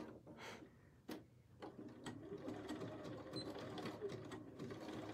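A home sewing machine runs a dense zigzag stitch for a zippered box bag, with a quick rattling mechanical whir, soft ticking of the needle and a few brief stops and restarts, heard close up and fairly quiet.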